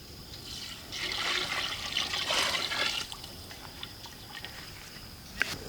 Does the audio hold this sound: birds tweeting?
no